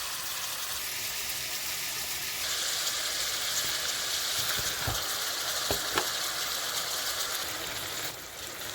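Johnsonville Italian sausage drops into a pan of browning ground beef, bringing a steady sizzle and frying hiss that grows louder as the meat goes in, with a few soft knocks and scrapes and no voices.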